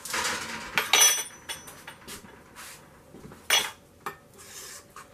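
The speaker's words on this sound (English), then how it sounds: "drop by rounded teaspoons onto your cookie sheet" Persimmon cookie dough dropped by rounded teaspoons onto a metal cookie sheet, giving a run of close clinks and scrapes of spoon on pan with short pauses between, no talking.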